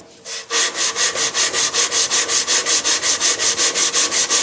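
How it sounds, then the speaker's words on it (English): Rhythmic scraping of a wooden table part rubbed back and forth on sandpaper to flatten its top, about five strokes per second, close and steady, with no voices. "we're going to just rub it back and forth until we get the top of it flat"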